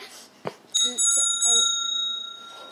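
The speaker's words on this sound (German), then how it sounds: "Drückt auf die Glocke." A bicycle bell is pressed several times in quick succession, bright ringing tones close by, with a short knock just before and faint voices around.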